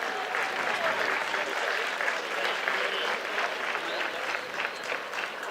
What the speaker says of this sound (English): As we get applause